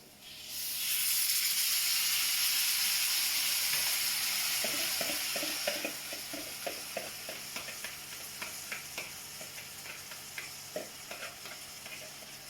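Sauce poured into a hot pan of sauteing food sends up a loud, sustained sizzle and hiss of steam, then settles into steady frying with a run of rhythmic spoon scrapes and stirs.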